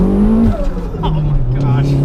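A Toyota MR2 making 300 whp with a station wagon engine swap launches hard, its engine roaring loud and close with a rising rasp, while people talk and exclaim over it.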